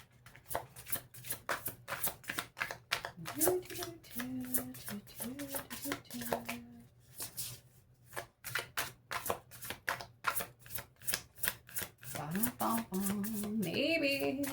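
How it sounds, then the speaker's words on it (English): Tarot cards are shuffled in rapid, rhythmic riffling bursts close to the microphone, while a person talks quietly underneath. "Let's start shuffling and see what comes out for you."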